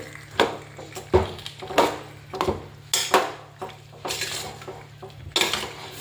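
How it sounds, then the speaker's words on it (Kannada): Spoon stirring a tempering through a cooking pot for a tender cluster fig recipe: a run of sharp metal clinks and scrapes against the pot, spaced irregularly over a low steady hum. "ಹಾಕಿದ ಎಲ್ಲ ಒಗ್ಗರಣೆನೆಲ್ಲ ಮಿಕ್ಸ್ ಮಾಡಿಕೊಂಡು"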